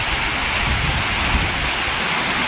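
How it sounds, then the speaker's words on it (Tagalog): Torrential typhoon rain from Typhoon Kristine roars in a constant close hiss, with a low rumble of thunder rolling underneath. "Walang katapusan ang ulan."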